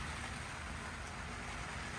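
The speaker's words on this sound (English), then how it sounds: "Beautiful rainy day out here in Norfolk" Steady rain falls outdoors in Norfolk, Virginia, a constant faint wash of noise with no breaks, heard alone without talking.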